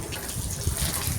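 Water gushes steadily from a hose pipe and pours over something, a loud continuous splashing rush with no voices over it.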